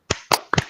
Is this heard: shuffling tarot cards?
no